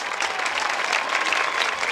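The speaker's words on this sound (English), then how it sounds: "Good round of applause from both sides, from Muncy and Montgomery tonight." Crowd applause at a high school football game between Muncy and Montgomery, a steady, dense wash of clapping from the stands, loud and continuous with no voices on top.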